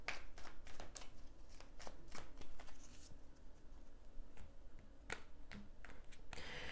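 Tarot cards shuffled and drawn during a card reading, with quick riffling flutters and crisp snaps of cards, close and quiet, repeating in short bursts.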